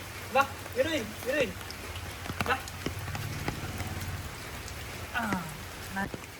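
Steady rain patters across the whole stretch, with several short bird-like chirps and a few louder clattering knocks cutting through it.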